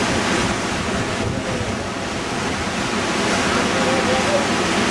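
The Saraswati river rushes down from the mountains near Badrinath in Uttarakhand, a loud, steady roar of churning water that fills the whole clip without a break.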